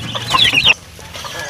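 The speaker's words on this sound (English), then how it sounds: "I have some hen here" A hen clucks in a short burst of sharp, close calls, then falls quiet with faint background noise.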